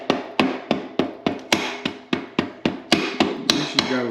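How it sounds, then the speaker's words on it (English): A rubber mallet taps a dirt bike's rear axle out through the swing arm, about fourteen sharp, evenly spaced knocks, close and loud, with no voices. "Grab a mallet. Slowly tap it through."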